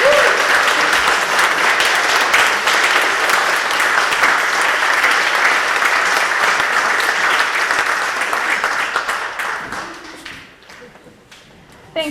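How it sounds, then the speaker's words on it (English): An audience at a dedication ceremony at the Howland Center applauds Florence as she returns to her seat, a strong, steady wash of clapping that thins and dies away over the last few seconds. "So one more round of applause for Florence as she takes her seat."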